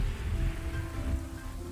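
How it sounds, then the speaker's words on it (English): Steady hiss of rain falling in the city-building game Kingdoms and Castles during a forest fire, a soft continuous wash with low rumble and no voices. "we've got a forest fire, which fortunately it's raining though"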